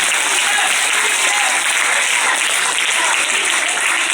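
Sustained, dense applause from a village gathering honouring its elders, loud and steady throughout without a break.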